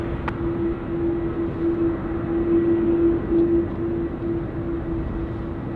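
A distant airplane drones steadily overhead at night near Sydney Airport with a constant low roar and a faint tonal hum, no voices present.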